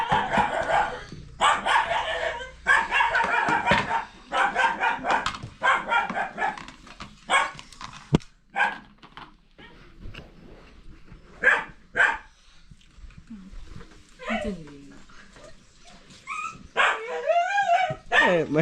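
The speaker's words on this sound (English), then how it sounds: "my dog is making noise" A dog at home barks and yips in repeated bursts, close and loud, with whimpering and whining between barks, while people talk nearby.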